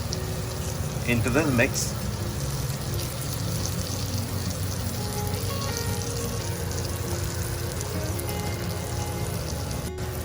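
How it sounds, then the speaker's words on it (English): Drained rice tipped into a pan of hot oil and ghee with peas for coconut-milk peas pulao, giving a steady close sizzle and frying hiss throughout, with someone talking over it. "We're now going to add the rice that we have drained earlier"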